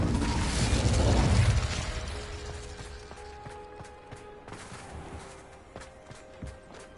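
An Incendio fire spell in Hogwarts Legacy flares with a loud whooshing burst that fades over a couple of seconds into quieter clicks, tones and small game noises.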